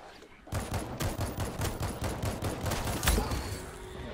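Rapid gunfire from the zombie shooter game World War Z sounds as a dense, continuous burst of loud shots running for several seconds, with one heavier blast standing out near the end.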